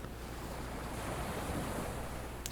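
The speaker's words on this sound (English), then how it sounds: "the cleansing waves of the ocean" Ocean waves wash in and out in a steady, broad roar of surf, with wind and gusty noise on the microphone across the whole stretch and no voices.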